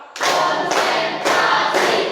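Students in a class clap together in a counted pattern, four distinct bursts of group clapping following one another at an even pace, each a short loud wash of many hands close by.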